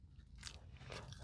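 Crisp crunching bites into a hard, dense vanilla-flavored vegan fiber snack, a few close, dry crunches and chews heard up close and fairly quiet.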